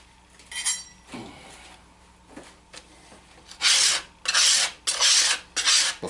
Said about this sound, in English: Alright, let me wipe this down.